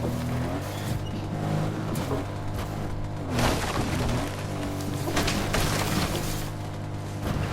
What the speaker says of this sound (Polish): Ja mam trochę wolniejsze auto.